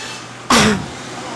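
A person gives a single sharp, loud cough, a short burst that fades quickly into a quiet room.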